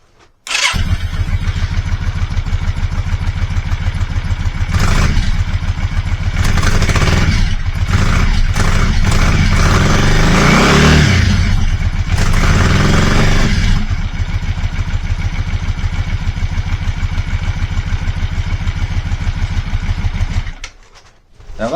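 A carbureted motorcycle engine starts abruptly after repair work, then runs close and loud with a throbbing idle, several uneven rev blips in the middle that sound a little rough, and settles before cutting off near the end.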